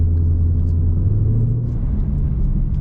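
A 2020 Mustang GT V8 running on an E85 flex-fuel tune rumbles loudly and steadily at idle or light load, a deep continuous engine drone close by with no talking.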